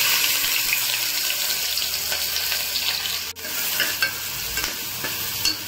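Onion fries in oil with cumin in a pressure cooker while being stirred, a continuous close scraping and soft sizzle with a sharp clack of the spoon partway through.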